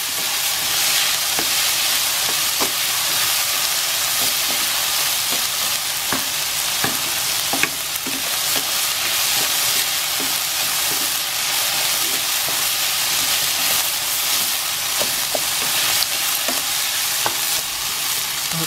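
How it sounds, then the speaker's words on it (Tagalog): Carrots and potatoes fry in a pan and are stirred, giving a steady loud sizzle with scattered scraping strokes throughout, no talking. "Haluin po natin hanggang sa maluto yung carrot at saka yung patatas."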